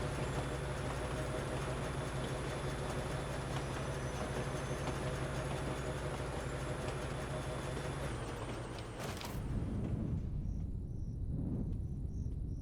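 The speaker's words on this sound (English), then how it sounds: "that choo-choo sounds like a freaking foghorn" A train horn that sounds like a foghorn blares loud and steady for about nine seconds over rumbling rail noise, then cuts off, leaving the clatter of passing wagons.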